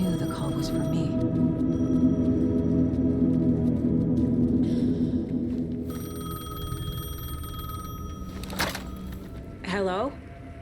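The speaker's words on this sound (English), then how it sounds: "The payphone was ringing." Payphone ringing in the video game Alan Wake 2, a loud electronic bell trilling in repeated bursts over an eerie droning ambience, ending with a clunk as the receiver is picked up.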